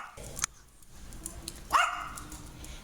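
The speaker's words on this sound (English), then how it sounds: "They're good dogs." Dogs bark indoors in a house decorated for Christmas: two short, sharp barks at moderate distance, the second louder, against a quiet room background.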